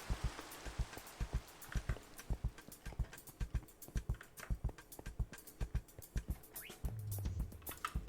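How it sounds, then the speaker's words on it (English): Rain falls in the video game Minecraft, a dense patter of crisp droplet ticks and taps at a steady pace, fairly quiet, with a low soft rumble near the end. "Let me sleep away this rain."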